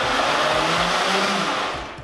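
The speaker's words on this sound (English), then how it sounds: "we are firing up the blender and it's gonna do all the work for us" A kitchen blender runs continuously while mixing a chocolate drink, producing a loud, steady, roaring whir that dips slightly near the end.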